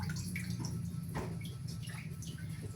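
Water flows steadily with a continuous splashing wash, close and even throughout, broken only by a few faint drips and gurgles, with no voices.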